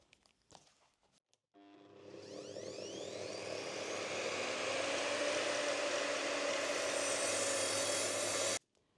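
Hand saw cutting through timber for a loft hatch frame, a few tentative strokes and then a long continuous rasping run, close and loud, stopping abruptly.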